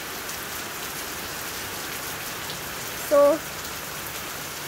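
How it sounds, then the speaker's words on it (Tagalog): Rain pours steadily onto a parked vehicle, a constant close hiss of drops drumming on the surface, broken briefly by a single spoken word. "Kaya nag-uwan na naman, nag-ulan na naman, mga kabis."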